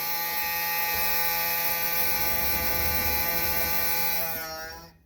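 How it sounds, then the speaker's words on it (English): A blower motor in the cab of a mini excavator hums steadily at close range with a bright, even whine, then winds down as it is switched off at the end; no one speaks. "I'm going to check the blower motor."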